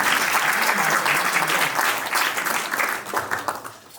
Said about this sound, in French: Mais on applaudit pour la famille qui a pris cette affaire.